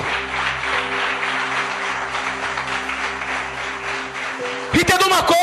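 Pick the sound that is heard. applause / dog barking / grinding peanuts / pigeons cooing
applause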